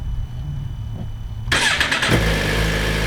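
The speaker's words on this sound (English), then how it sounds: "the bike starts with the clutch" A 2017 Suzuki GSX-R1000R motorcycle engine cranks briefly and fires into a loud, close idle that settles into a steady rumble.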